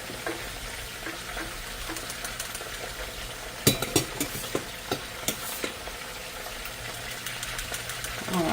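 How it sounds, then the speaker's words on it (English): Bacon grease heats in a pan, with a soft steady sizzle under faint clinks and scrapes of a utensil against the pan. "we'll let our bacon grease get hot"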